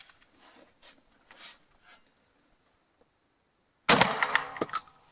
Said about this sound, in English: Now we are ready to shoot at 20 meters of distance with the MB Tricolor baschieri&pellagri cartridge